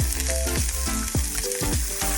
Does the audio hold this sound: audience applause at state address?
no